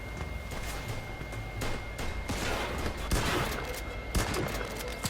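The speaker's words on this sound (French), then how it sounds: "Je savais même pas que la fusillade avait commencé." A gunfight in the video game Mafia 2 crackles with a dense, continuous run of gunshots and bursts, loud and close, with sharp individual cracks punctuating the steady fusillade.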